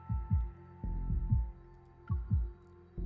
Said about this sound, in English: Suddenly I hear a strong heartbeat and feel a warm power flow through me.